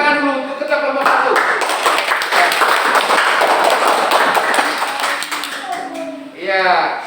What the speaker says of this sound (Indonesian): kita berikan tepuk tangan dulu untuk ketua kelompok 1